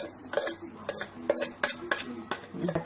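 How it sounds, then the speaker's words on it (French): A metal spoon scrapes and clinks against a bowl while cutting cassava and banana fritter dough, a series of sharp irregular taps and scrapes close by with soft background murmuring. "vous pouvez utiliser la cuillère pour couper votre pâte"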